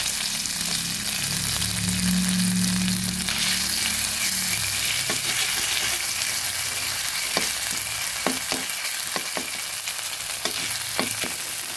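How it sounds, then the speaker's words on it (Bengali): A steady, close crackling hiss rises from drumsticks and potatoes frying in a pan with spices and ginger paste. Scattered light scraping taps join in toward the end, and no one speaks. "সজনে ডাঁটা আর আলুটা কিছুটা যখন ভাজা হয়ে আসবে তখন মাঝখানে একটু জায়গা করে দিয়ে দিচ্ছি মশলাগুলো"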